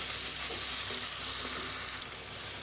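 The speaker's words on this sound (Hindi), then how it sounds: "आलू डालने के बाद तकरीबन 1 मिनट तक हमने इसको फ्राई करना है।" Potatoes frying over high flame in a pan with garlic and cumin make a loud, steady hiss of sizzling oil with faint stirring knocks that eases slightly toward the end.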